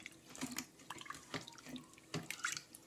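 Water is poured into rice in an electric cooker pot, heard as quiet splashing and trickling with irregular small drips and gurgles throughout.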